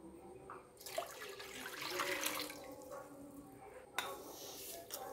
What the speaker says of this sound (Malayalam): ഇനി അതിലേക്ക് നമുക്ക് 2 കപ്പ് വെള്ളം ഒഴിച്ചു കൊടുക്കണം.